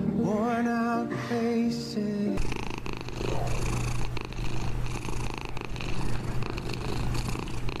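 A cat purrs steadily and fairly loudly through most of the clip, with a continuous low rumble under brief music at the start.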